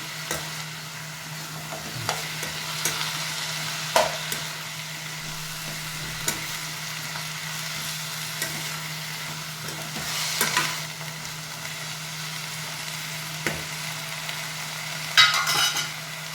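Radish leaves frying in a pan, a steady low sizzle under repeated scrapes and clinks of a spoon stirring against the metal, heard close and fairly quiet with no talking.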